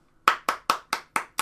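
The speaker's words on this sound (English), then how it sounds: "applause to Riot Games, applause to League of Legends" One person claps six times at an even, brisk pace. The claps are sharp and close to the microphone, each ringing briefly against an otherwise quiet background.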